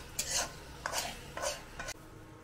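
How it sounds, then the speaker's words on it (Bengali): Crab curry with green chillies is stirred in a pan, producing four short, soft scraping strokes close by at a moderate level. "আমি আরও নাড়িয়ে নিচ্ছি"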